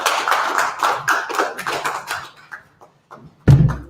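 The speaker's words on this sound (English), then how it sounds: "Clap it up." People clap a quick, even rhythm close by, about a dozen sharp claps that break off into scattered taps, then a loud knock near the end.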